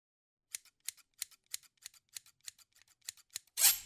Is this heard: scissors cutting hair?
yes